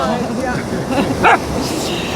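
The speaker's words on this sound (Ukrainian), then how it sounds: "Растя, принеси м'яч, не гавкай." A dog barks a few times outdoors, its short yips partly masked by people talking in the rain, the barks moderately loud and close.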